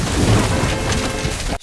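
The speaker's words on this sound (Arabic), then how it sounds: "شايفين ضربة البرق عملت إيه؟" Thunder from a nearby lightning strike, a loud sustained broadband roar and crash filling the whole moment before cutting off abruptly.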